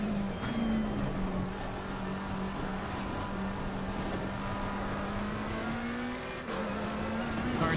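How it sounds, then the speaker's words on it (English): GT race car engine in the racing game Assetto Corsa Competizione, a loud steady drone holding high revs for several seconds with slight rises in pitch, brief dips near the start and end, and no talking. "So I think the car's all warmed up now, so let's start pushing it."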